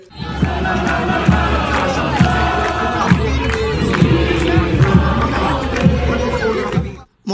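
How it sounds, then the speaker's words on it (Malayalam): Moroccan football fans cheer and chant at Aspire in Doha. A loud, massed crowd roars with rhythmic chanting and deep pulsing beats for several seconds, then cuts off. "എങ്കിലും ആസ്പയറിൽ ഉയർന്നു തന്നെ കേട്ടു അവരുടെ ആർപ്പുവിളികൾ"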